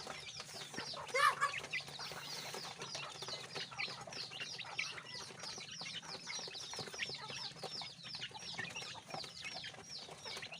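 A flock of crossbred village and Bangkok chickens clucks and murmurs continuously close by, with a brief flutter of wings near the start.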